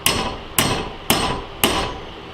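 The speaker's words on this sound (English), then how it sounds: "And slowly bend down as I hammer." Hammer striking metal on a DIY guitar tremolo blocker as the piece is bent, four sharp, evenly spaced ringing blows, loud and close, each decaying before the next.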